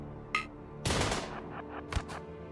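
Gunfire in the video game RimWorld during a fight against grenadiers: a short early crack, then a loud, dense burst of shots, then a few scattered later reports, with no talking.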